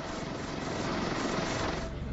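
A helicopter transferring rescued hostages out to the French warship Jeanne d'Arc at sea drones with a loud, steady rotor and engine roar, close and continuous, with no voices.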